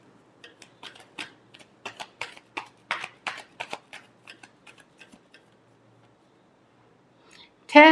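A tarot deck is shuffled during a Scorpio love reading: a quick run of papery riffling bursts for about five seconds, close and fairly soft, then quiet and one sharp sound at the very end.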